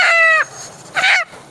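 A white hen in a village yard gives two quick bursts of loud, close clucking calls separated by a short pause, with no voices over them.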